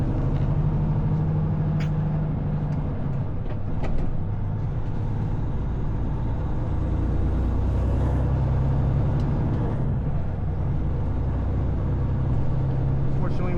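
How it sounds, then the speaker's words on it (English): A flatbed semi truck drives along a highway, its engine a continuous low drone with steady road rumble and no break throughout, heard from inside the cab. "Driving the truck again."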